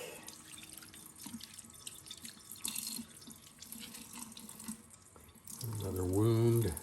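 Cold tap water runs steadily while a shot rattlesnake's body cavity is rinsed out, a continuous splashing hiss with a louder gush of water hitting the carcass near the end.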